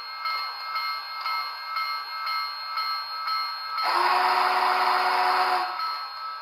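A steam locomotive bell from a SoundTraxx Tsunami 2 sound decoder rings in a steady, regular clang, joined near the end by a louder hissing burst that stops abruptly.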